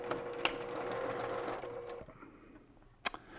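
A sewing machine runs steadily for about two seconds while stitching a quarter-inch seam on a fabric tool pouch, a close, even mechanical whir that then stops, followed by a couple of faint clicks.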